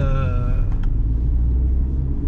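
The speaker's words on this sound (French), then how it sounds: "c'est vrai qu'on entend le moteur" A 2003 Chrysler PT Cruiser's 2-litre 140 hp petrol engine rumbles steadily at close range, its low drone holding throughout with no clear rise in pitch.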